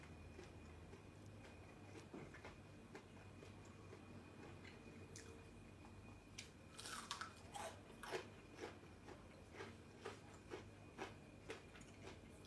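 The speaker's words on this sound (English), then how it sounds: "As you can hear, it's extremely crunchy." Spicy falafel being bitten and chewed, with loud crisp crunches starting quietly, then a sharp bite followed by a steady run of close crunchy chewing against a faint background hum.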